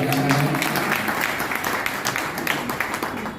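A crowd at a Diwali gathering applauds with steady, dense clapping that continues throughout, with some voices mixed in.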